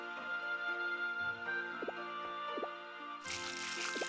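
Watering crops in the farming game Harvest Moon: Light of Hope, heard as a few soft watery drips and plops over steady game music, ending in a brighter splashing burst.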